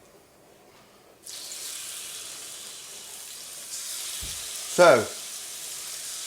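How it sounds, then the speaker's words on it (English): Pheasant breast fries in a little oil, a sizzle that jumps up suddenly and then holds as a steady hiss, with a brief clatter and louder burst near the end and a short spoken word. "I'm going to fry mine really quickly in a little oil."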